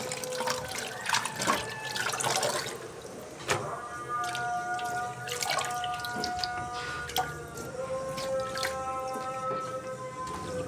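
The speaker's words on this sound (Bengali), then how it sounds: "এখন ভালো করে ধুয়ে নিব।" Chopped bottle gourd leaves being washed in water, with splashing, dripping and sloshing plus a few clinks of a container, close by and continuous, without talk.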